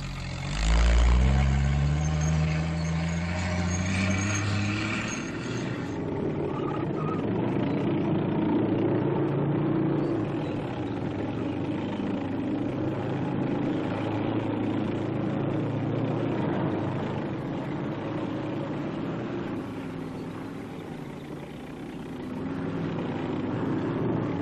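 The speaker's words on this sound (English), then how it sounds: "Officially designated as the M29C light cargo carrier, This vehicle has proved itself equally at home, not only in deep snow" An M29C Weasel light cargo carrier drives over deep snow, its engine droning steadily at close range after a loud rising start, with a rough, grinding track rumble that holds throughout.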